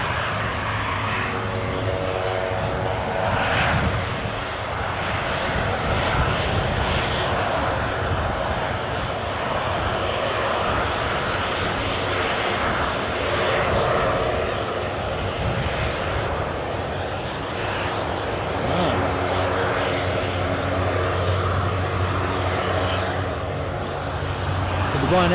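A Jet2 Boeing 737 at Newcastle airport gives off a continuous engine rumble and whine from nearby, steady throughout, with faint voices and radio chatter now and then underneath.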